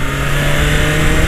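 A BMW R 1250 GS motorcycle engine runs close and loud with a steady, heavy drone and a firm low hum, holding an even pitch throughout with no talking.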